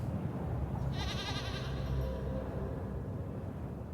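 A goat bleats in the video game Little Goody Two Shoes. The single wavering cry lasts about a second and a half and sits over a steady bed of quiet game ambience.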